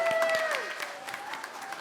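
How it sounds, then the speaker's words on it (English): Children in a grade 1-2 class or assembly clap for themselves in a brief, moderately loud burst that thins out into scattered claps, with a faint tonal voice at the start. "Give yourself some applause."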